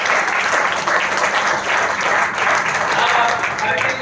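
An audience at a Tiens business presentation bursts into loud, dense applause, a close and steady wash of clapping hands that fills the whole moment without pause.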